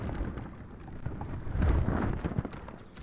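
Wind rushes steadily past a sailing ship in the pirate game Sea of Thieves, a moderate, gusting whoosh with low rumbling surges and faint creaks, swelling midway before settling.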